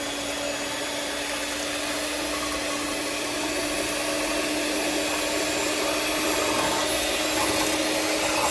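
A continuous motorized whir of pecan dump cake batter being whisked until combined runs steady and close, with no pauses or voices.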